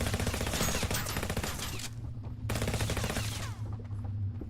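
SMG gunfire in the video game Revulsion, sustained rapid automatic bursts, loud and continuous, with a brief break before firing resumes, heard alone without voices.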